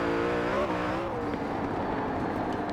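A 2020 Koenigsegg Jesko's engine sounds in Forza Horizon 4, a loud, close, harmonic-rich roar that climbs in pitch, dips briefly, then holds a sustained high drone.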